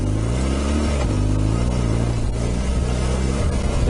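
A 2008 BMW R1200 GS Adventure motorcycle engine revs loud and close, holding a steady throaty drone with pitch rising and falling through a few throttle blips, with no talking over it.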